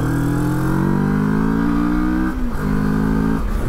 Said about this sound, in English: you can still get some fun out of it if you let those revs climb